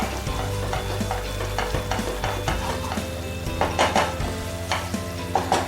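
Stuffed tondli (ivy gourd) in a dry masala, cooked without water, is stirred in a pan: a steady sizzle with repeated scraping strokes of a spoon, close and continuous.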